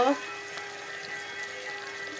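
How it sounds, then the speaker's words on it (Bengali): Potatoes and onions frying in a pan give a soft, steady sizzle, with a brief clatter at the start and a faint voice briefly in the background. "আলুগুলোকে লাল করে ভেজে নেব বন্ধুরা দেখো পেঁয়াজ আলুগুলো ভাজা হয়ে গেল"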